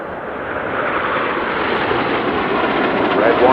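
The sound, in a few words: Red Arrows display jet aircraft flying past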